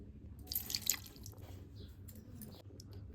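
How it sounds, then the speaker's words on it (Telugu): Water is poured into curd in a bowl to make spiced buttermilk with green chillies, coriander, curry leaves and roasted cumin: a brief splashing pour, then a soft, steady trickle close by. "కొన్ని వాటర్ వేసుకుందాం."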